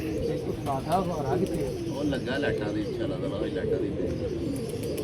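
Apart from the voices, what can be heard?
pigeon cooing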